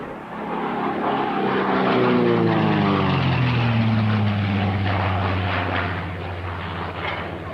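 A Fairey Firefly propeller aircraft sweeps past at an air show, a loud, steady engine drone with a falling pitch as it passes close by, alone without talk.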